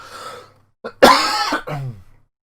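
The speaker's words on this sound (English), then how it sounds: "please excuse me, I need to cough" A cough and throat-clearing burst from a lone person late at night, a short rough hack followed by a smaller second cough, close and fairly loud after a brief pause in talk.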